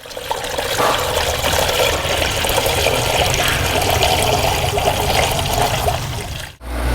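Water pours steadily into the intercooler reservoir of a C7 Corvette Z06, a continuous close rushing, splashing flow that cuts off sharply near the end.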